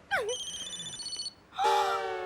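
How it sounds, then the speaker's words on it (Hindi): A telephone rings in two bursts in a domestic drama scene, bright trilling electronic tones with a short pause between rings, close and loud, with faint speech-like sounds at the start. "नहीं प्लीज फोन उठाओ, ये अच्छी बात नहीं है।"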